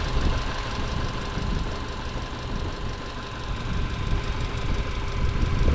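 A 2000 Subaru Impreza engine running with an exhaust leak, idling steadily with a rough, rumbling drone and a faint tonal hum, close and continuous with no voices.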